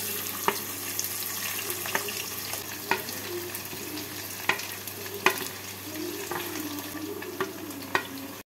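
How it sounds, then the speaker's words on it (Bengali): Soaked rice fries in a pot with whole spices such as cinnamon, giving a soft steady sizzle broken by regular sharp clinks and scrapes of a spoon stirring against the pot. "চাল দিয়ে চালটাকে 2 মিনিট ভেজে নিচ্ছি।"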